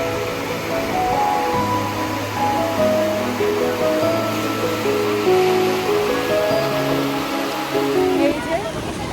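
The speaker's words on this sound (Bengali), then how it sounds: "যাতে পুরো ঢেউটা পায়ের মধ্যে লাগে।" Sea surf rolls and washes steadily along the shore at Digha beach in West Bengal, a continuous loud wash of water, with voices and tonal sounds running over it throughout.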